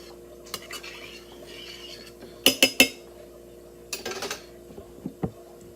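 Garlic is stirred into rice in a cooking pot, a utensil scraping softly, then a quick cluster of three sharp metallic clinks against the pot, followed by a few more scattered knocks. Close and fairly quiet, with no talking.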